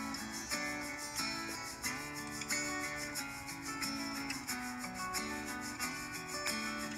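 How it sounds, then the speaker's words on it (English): A rag buffs Johnson paste wax off a wood board, producing close, rhythmic rubbing strokes that repeat steadily, about two per second, with no talking. "we'll wipe on some Johnson paste wax and then we'll buff it off with a rag"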